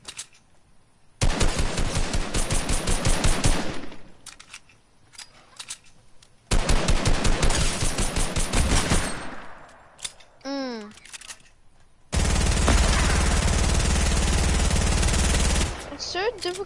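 Rapid bursts of automatic gunfire in Fortnite on PS4, loud repeated volleys separated by short gaps, with a brief warbling effect and a heavy sustained blast near the end, and a voice speaking in between.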